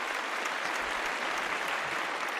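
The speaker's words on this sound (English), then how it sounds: "Let's give Merlin a nice round of applause for his" Steady applause for a guest's introduction on a paranormal open-line show, dense and even throughout with no distinct individual claps standing out.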